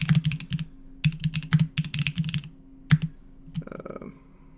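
Quick bursts of key presses on a computer keyboard as a search is typed, loud and close, with short pauses between runs of clatter and a final click.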